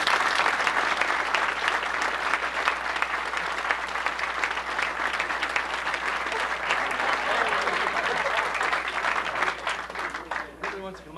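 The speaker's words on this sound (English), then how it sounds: "Give him a round of applause." A seminar crowd at a pressure point Q&A gives a round of applause, dense continuous clapping with a faint low hum beneath, tapering off near the end.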